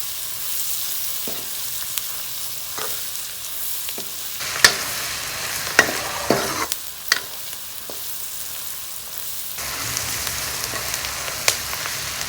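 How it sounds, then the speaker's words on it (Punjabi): Potatoes with turmeric cook in a hot pan for dahi bhindi, with a continuous, close sizzle broken by several sharp scraping stirs of a spatula, and no speech. "ਆਲੂਆਂ ਨੂੰ ਆਪਾਂ ਚੰਗੀ ਤਰ੍ਹਾਂ ਹੁਣ ਪਕਾ ਲਾਂਗੇ 2 ਮਿੰਟ"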